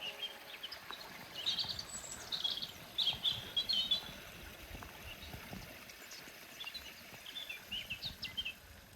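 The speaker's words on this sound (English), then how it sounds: "I'm just recording the birds." Wild birds outdoors away from the city give faint, scattered high chirps in small bursts over a steady outdoor hiss, distant and without talk.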